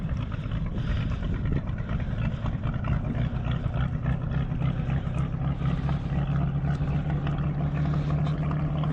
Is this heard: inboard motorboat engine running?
yes